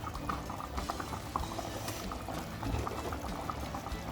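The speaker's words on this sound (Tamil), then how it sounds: "குழம்பு நல்லா கொதிச்சு வந்திருக்கு." Sardine fish curry (meen kulambu) boils in a pot with a dense, steady bubbling and popping, heard close up with no voices.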